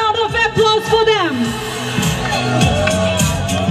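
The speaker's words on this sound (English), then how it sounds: "Let's give them a round of applause for them." An audience at a crowning event in Chandel district cheers and whoops loudly right after an announcer's voice, with shouts and excited crowd noise rising and holding close.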